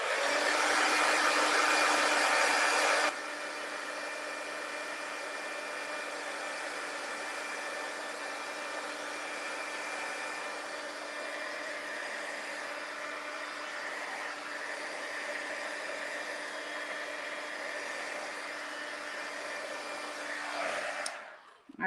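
A handheld heat dryer blows steadily over a handmade thank-you card, a close, continuous whooshing hum that drops slightly in pitch after a few seconds and cuts off at the end.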